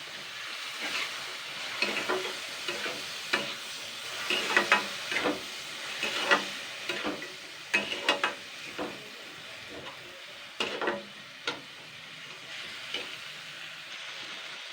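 Soaked masoor, mung and chana dal frying in a pan, a steady soft sizzle broken by frequent scraping stirs that come in irregular clusters, close and alone without talk.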